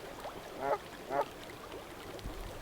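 Two short honking calls from geese ring out a moment apart over a quietly running creek outdoors.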